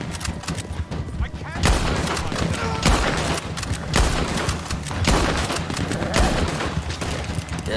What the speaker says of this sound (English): they got a Maxim machine gun